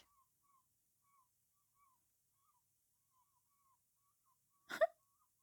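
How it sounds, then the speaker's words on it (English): A few faint, thin bird calls drift in from a distance over near silence, followed by a short, louder squawk close to the end. "it's the seagulls."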